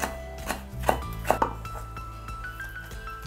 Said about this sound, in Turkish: Onu da ince şeritler halinde doğrayacağız.